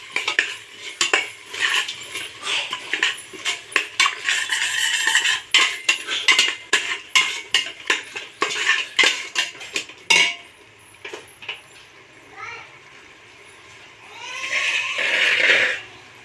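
A spoon clatters and scrapes repeatedly against a metal pot while mint and coriander are stirred into mushroom biryani, a quick irregular series of close, sharp clinks that thins out and then returns as a louder scraping swirl near the end.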